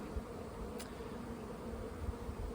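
Honey bees buzz around brooding beehives in a yard, as a continuous dense hum of many insects close by, with no talking.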